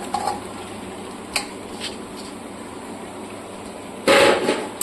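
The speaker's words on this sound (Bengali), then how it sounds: "এরপর আমি দিয়ে দিচ্ছি ফুলকপিটাকে" Cauliflower tipped into a pan of poppy seed paste, with faint stirring and scraping clinks, a few sharp utensil taps, and a louder burst of sizzle and clatter near the end.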